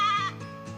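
A person imitates a goat, giving one drawn-out, wavering bleat close up, loud and nasal, which fades into a softer second bleat; no one talks.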